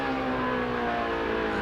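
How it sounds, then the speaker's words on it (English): NASCAR race car during practice for the 2004 Subway 500, heard from onboard with a loud sustained engine drone whose pitch slowly drops as the driver lifts off the throttle past the flag stand. "Robbie jumping out of the gas just past the flag stand on the front side"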